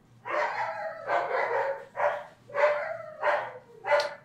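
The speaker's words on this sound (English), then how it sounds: "I love when they bark for no reason." Dogs barking inside a room in Five Nights at Freddy's: Help Wanted, six separate bark bursts in an uneven rhythm, moderately close and clear with nothing else over them.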